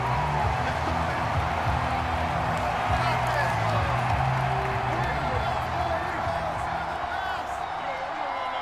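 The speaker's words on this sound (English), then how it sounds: "Plenty of shouts from this crowd as they watch the replay." A football stadium crowd at a Cowboys vs Eagles game shouts while watching a replay. It forms a steady, dense roar that holds at one level from start to finish, with a voice faintly present underneath.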